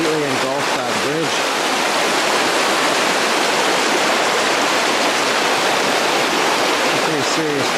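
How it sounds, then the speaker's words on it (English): Floodwater from a swollen river rushes over and engulfs a bridge, a loud, steady broadband roar like a waterfall that fills the whole clip, with brief voices near the start and end. "Pretty serious flooding here."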